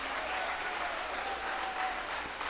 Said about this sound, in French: Hey, regarde, tout le monde applaudit.